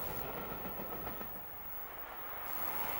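Class 50 diesel locomotive 50024 climbs through St Austell near Carlyon Bay in 1987, hauling the 0605 Bristol–Penzance train, heard as a faint, distant, steady rolling rumble.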